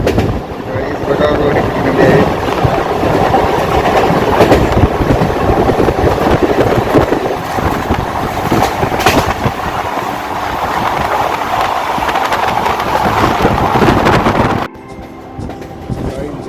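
A moving train crossing a bridge carries the rhythmic clatter of wheels and wagons loud and close the whole way, with wind buffeting the microphone before the rumble abruptly drops away near the end.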